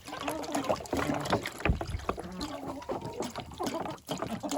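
Warm water poured from a saucepan gives an uneven trickling and splashing, moderately close, with brief thuds and some faint background voice.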